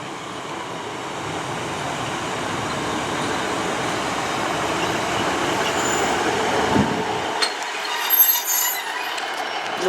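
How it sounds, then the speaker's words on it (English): An Arriva Trains Wales passenger service rolls through Severn Tunnel Junction station, a steady loud rumble of wheels on rail that holds, then drops away sharply, leaving a faint high squeal. "it's passing now is a 1523 Arriva Trains Wales service to Port Talbot Parkway from Gloucester"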